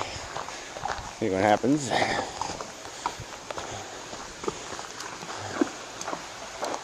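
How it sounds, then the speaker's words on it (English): A horse's hooves clop steadily near water on a crowded outing, footsteps at close to middle distance, with people talking throughout. "we got a horse here, panicking a little at the water"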